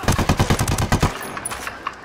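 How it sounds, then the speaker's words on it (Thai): Automatic gunfire in the video game Ghost Recon Wildlands, a loud close burst of about a dozen rapid shots lasting a second, followed by scattered fainter distant pops. "ทำไมมันยิงกันมาเยอะจังวะ"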